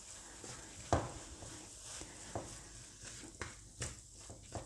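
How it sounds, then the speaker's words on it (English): Beef mince browning in a pan, a steady low sizzle with occasional scraping stirs and soft clinks of a utensil against the pan. "So I'm going to cook this off till my meat's browned."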